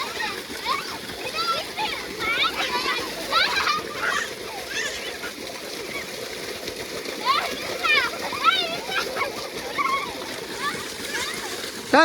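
A young child splashes water while bathing, repeated irregular splashes close by, with a voice and an adult talking over them.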